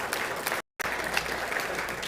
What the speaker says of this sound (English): Let's have a round of applause for Dell.